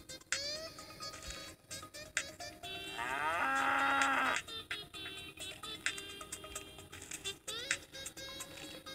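A cow in Goat Simulator moos once in a long, loud, sustained low call midway, surrounded by clicking game sounds and scattered electronic tones, no talk.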